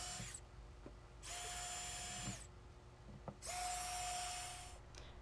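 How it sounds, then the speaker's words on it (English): A power drill whirs in two long bursts, winding up and spinning down, driving cement board screws through Hardieback board into a wall stud, with quiet pauses and small knocks between, close by. "now I'm drilling the Hardyback board into the stud"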